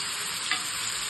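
Fish frying steadily in a pan with oil, a continuous close hiss and sizzle with no talking over it.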